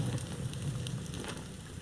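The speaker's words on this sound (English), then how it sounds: "the rain just kicked up big time" Steady rain pouring in the survival video game The Forest, a dense, continuous hiss with a faint crackle like a nearby fire, loud and even throughout with no talking.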